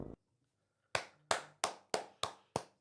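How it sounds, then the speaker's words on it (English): Hand clapping from a single person, six sharp, evenly spaced claps at a steady rhythm after a short pause, close and distinct with quick decays between them. "We'll give him a clap."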